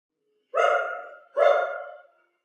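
A pet dog named Yurik gives two loud, close barks about a second apart, each with a tapering tail, in an otherwise quiet house.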